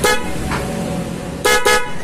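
A newly installed dual car horn with relay sounds in blasts: a short honk, a brief faint toot, then two loud honks close together near the end, all close and without talk.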